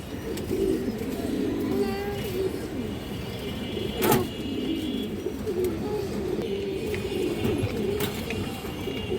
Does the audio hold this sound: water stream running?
no